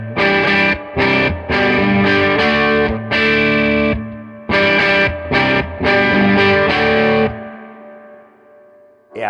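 Electric guitar played through a Mosky Audio LM741 overdrive pedal on its normal setting: loud, distorted chords struck in bursts with brief pauses, ending in a long reverb tail fading out.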